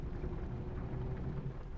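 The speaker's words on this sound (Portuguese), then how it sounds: "Que perigo, galera, numa chuva dessa ainda." Heavy rain and low rumbling thunder in a bus simulator video game, a dense steady roar that fills the whole stretch with no voices.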